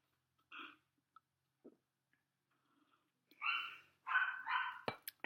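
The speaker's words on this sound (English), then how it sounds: "Chico, Mama will come get you in a little bit if you will stop barking" A dog barks indoors a short distance away, giving a few sparse single woofs and then a quicker cluster of three or four louder barks near the end, with quiet pauses between.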